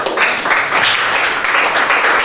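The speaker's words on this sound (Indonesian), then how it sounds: "Beri tepuk tangan untuk kelompok 1." Classroom group claps for the first group's presentation, a dense, loud burst of applause in uneven pulses lasting about two seconds.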